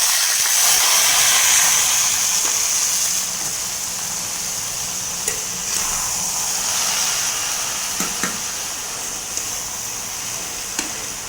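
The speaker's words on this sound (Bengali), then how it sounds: "পেঁয়াজ মরিচ হচ্ছে ভাজা হয়ে গেছে, এখন হচ্ছে শাক দিয়ে দিচ্ছি।" A loud, rushing hiss as leafy greens hit a hot pan of fried onions and chilies, easing into a softer sizzle with a few light clicks.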